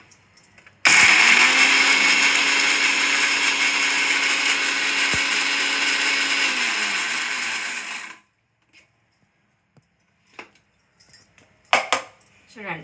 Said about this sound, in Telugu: ఇప్పుడు ఇవన్నీ మిక్సీలో ఒక రౌండ్ అట్లా వేస్తామంటే సరిపోతుందండి